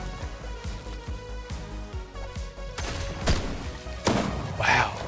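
Gunfire in the video game Fortnite, a series of thudding shots and booms with a sharper crack and blasts near the end, layered over a busy game soundtrack.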